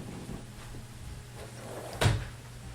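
A door shuts with a single close, solid knock near the end, after faint shuffling and earlier lighter bumps, against a quiet background of steady room noise.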